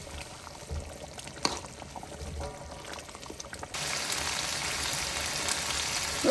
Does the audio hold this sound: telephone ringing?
no